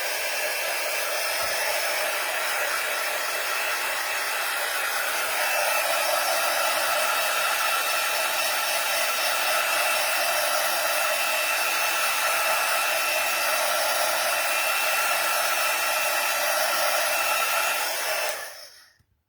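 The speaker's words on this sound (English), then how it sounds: "it does say to heat press, basically heat set this ink, so that's what I'm going to do" A heat tool blows a loud, steady whooshing roar while heat-setting ink on a card, running continuously for most of the clip before cutting off abruptly near the end.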